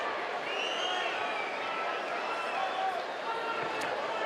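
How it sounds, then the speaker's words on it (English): A restless crowd at a King of the Cage women's cage fight murmurs and stirs in a steady, dense wash of noise, moderately distant and continuous throughout. "The crowd getting a little antsy."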